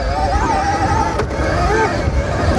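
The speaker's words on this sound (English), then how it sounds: "Wheel spinning in the third gear." BRZ Racoon Pro 84v 21kW electric motorbike spinning its rear wheel in third gear, a loud steady whining drone with rising and falling pitch over continuous rushing wind and road noise.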